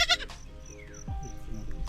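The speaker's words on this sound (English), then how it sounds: "look, there's goats." Goats on a rural farm in the Philippines bleat in short calls, one rising call standing out, close by over low background noise and faint rustling.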